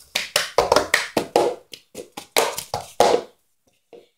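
Hands clap and plastic cups tap and thump on a table in a quick, steady cup song rhythm, about a dozen crisp close hits before a brief pause and a final light tap.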